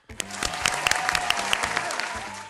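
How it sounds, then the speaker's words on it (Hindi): Studio audience on a Hindi-language TV quiz show bursts into steady, loud applause right away, dense clapping with a few sharper claps standing out, holding strong for the full couple of seconds. "तालियां।"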